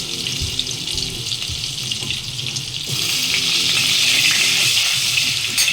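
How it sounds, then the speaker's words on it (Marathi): Cumin seeds and cubes of butter sizzle in hot oil for a mushroom butter masala, a steady loud hiss with soft crackles that swells louder midway as the butter goes in, with faint kitchen clatter and no talk. "तेलामध्ये जरासं मी जिरं टाकत आहे आणि जिऱ्यानंतर मी लगेच हे बटरचे क्यूब टाकत आहे"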